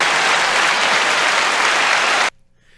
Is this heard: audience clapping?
yes